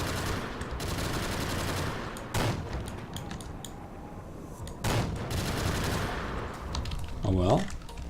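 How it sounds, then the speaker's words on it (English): Loud tank guns firing in Garry's Mod, ACF tanks: a dense, continuous rattle of gunfire with two heavier blasts standing out partway through, close and forceful throughout. "we have some pretty loud guns here"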